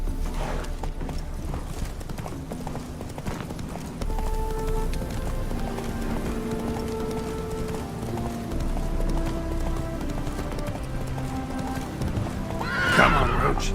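Roach, the horse in The Witcher 3, gallops with steady rapid hoofbeats and an occasional whinny, a voice speaking briefly over a game music backdrop.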